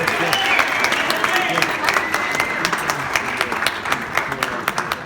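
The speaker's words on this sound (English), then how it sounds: "Nice round of applause for Dave." Steady applause from a crowd at a championship toast, dense clapping that carries on throughout at a fairly loud level.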